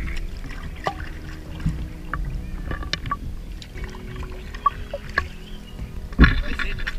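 A paddle dips and pulls through lake water from a stand-up paddle board, with soft irregular splashes and trickles over a steady wash of wind and water, and one sharper knock near the end.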